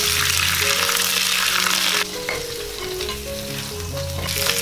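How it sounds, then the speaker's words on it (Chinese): Pig trotters stir-fried in a hot wok, for plum-sauce pork knuckles, give a loud, steady sizzle with scraping stirs, which dips briefly in the middle and then swells again, with no voices. "接着把猪脚放进来炒香。"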